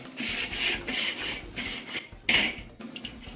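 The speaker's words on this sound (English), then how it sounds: "first things first, we got to clean off this grill" A brush scrubs a smoker's grill grate in quick back-and-forth strokes, a close, rhythmic rasping scrape with a few harder strokes, and no talk.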